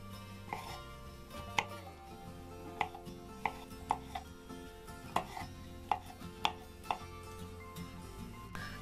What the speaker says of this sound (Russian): Очищенные грибы нарезаю квадратиком